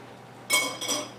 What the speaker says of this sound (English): now it's time for me to take my lid off and give it a stir